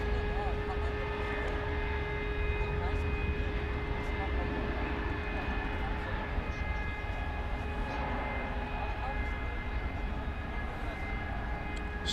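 Airbus A300 airliner on the ground at Dallas/Fort Worth airport, a steady distant engine roar and hum with a constant high tone, broadband and unchanging throughout.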